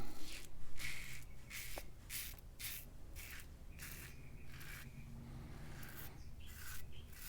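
A razor shaving through Speick shaving cream on skin, with short rhythmic scraping strokes repeating at a steady pace, close but faint, with no voices.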